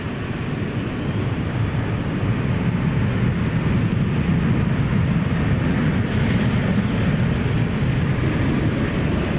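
An American Airlines Boeing 737 at DFW Airport sends out a continuous, broad jet-engine roar that stays loud and steady throughout, with no voices over it.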